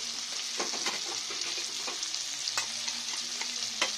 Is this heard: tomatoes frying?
yes